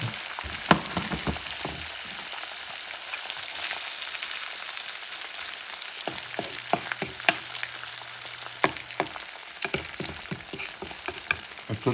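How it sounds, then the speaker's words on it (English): Eggs frying in a pan: a continuous soft sizzle with scattered ticks and scrapes of a utensil, moderately close and fairly quiet throughout. "you add your eggs"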